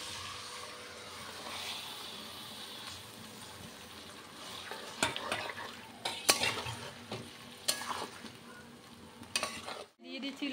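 Marinated mutton goes into a pan of fried onion and garlic, bringing a faint steady sizzle and then louder bursts of crackling and clattering utensil scrapes before an abrupt cut.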